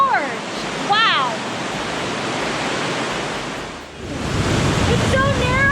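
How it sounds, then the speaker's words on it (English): Rushing water in a narrow gorge in Bavaria, a loud, steady broadband roar that fills the clip, with a brief dip before swelling again and faint whistling wind. "It's so narrow, and there's rushing water on the other side."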